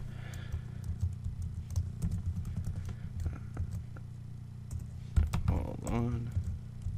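Someone types a password on a computer keyboard, with quiet, irregular key clicks in short bursts alongside a few louder taps and soft background noise.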